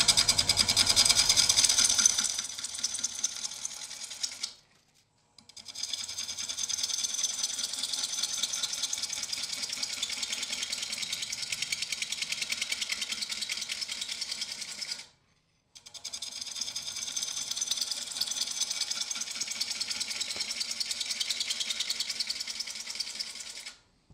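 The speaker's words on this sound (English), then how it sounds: "Freshly sharpened half inch bowl gouge. And I just need to start or finish getting it round." A half-inch bowl gouge cuts a sycamore bowl blank spinning on a wood lathe, giving a steady, loud hiss and rumble that runs for several seconds, stops briefly twice and then resumes. No one speaks.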